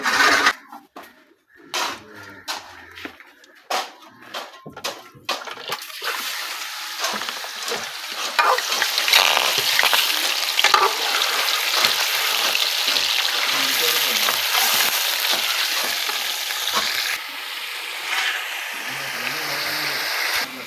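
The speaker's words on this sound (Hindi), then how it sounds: "इधर घी मैंने गर्म कर लिया है, करेंगे चिकन फ्राई।" Chicken goes into hot ghee for frying: a few sharp spatters and clatters come first, then a loud, steady sizzle builds and continues close by for the rest of the stretch.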